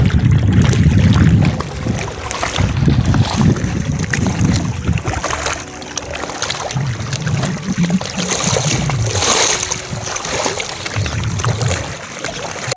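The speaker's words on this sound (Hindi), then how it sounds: "देखिए यहाँ पे पानी की आवाज़ कितनी सुंदर, रियल में आवाज़ सुनिए" Water washes against a shore in repeated low surges, each swell rising and falling every couple of seconds, close and moderately loud with a soft airy hiss between waves.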